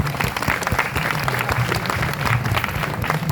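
Audience at an Azad Maidan teachers' protest in Mumbai breaks into steady, dense applause, many hands clapping together close and loud with no pauses throughout.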